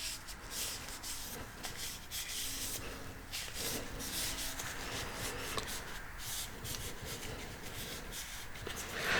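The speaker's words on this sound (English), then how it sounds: "we're just going to clean up some of this old lubricant that was on the lens" Old lubricant grease being wiped and rubbed out of a Canon FD 35mm f/2.0 lens during an EF conversion, a steady close-up scrubbing and rubbing texture running throughout with no talk.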